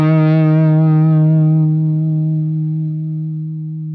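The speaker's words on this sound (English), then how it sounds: "have a listen to how this note decays with this gate on" A single high-gain, distorted electric guitar note played through a Line 6 Helix with a noise gate, ringing loud and steady before tapering smoothly away over several seconds, alone with no talk.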